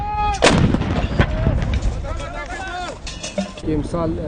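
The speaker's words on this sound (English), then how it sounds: "The U.S. Army's 319th Airborne Field Artillery Regiment was one of the units training the ANA on operating the Russian-made D-30 122mm howitzers." Russian-made D-30 122mm howitzer fires in a sharp, loud blast near the start, followed by a second report, over outdoor noise and people talking throughout.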